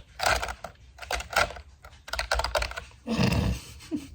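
Rapid clattering keystrokes on a computer keyboard come in bursts separated by short pauses, close and fairly loud with no talking.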